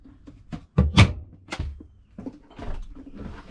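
A cabinet door opens in the galley of a Beneteau Oceanis 281 sailboat, giving a few close, soft thunks and clicks with some handling noise and faint background sound.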